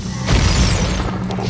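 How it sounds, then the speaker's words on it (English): A bomb explodes in Ocarina of Time Master Quest with a sudden loud boom and crash, followed by a rumbling decay over a second or so. "Explosion."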